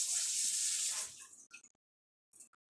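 Tap water gushes over a blender cover for about a second, then cuts off, followed by a few faint drips and light knocks in a quiet sink.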